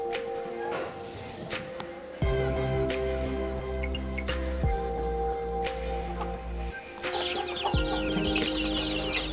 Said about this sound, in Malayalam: ഇത് നാടൻ കോഴി ഇനത്തിൽപ്പെട്ടതാണ്.